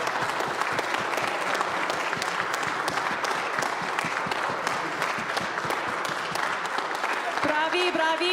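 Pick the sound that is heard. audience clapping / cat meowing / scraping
audience clapping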